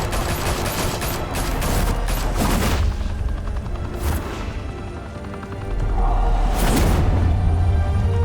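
Heavy gunfire erupts in Batman: The Telltale Series, dense overlapping volleys with sharp cracks that ease off midway, then surge again into loud sustained shooting.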